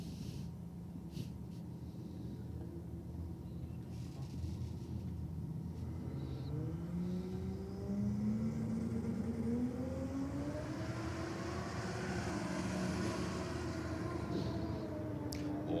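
A Holden Commodore VL on radial rear tyres drag racing a Ford Falcon, with a deep engine roar that climbs in pitch through the gears and rumbles on at a moderate distance.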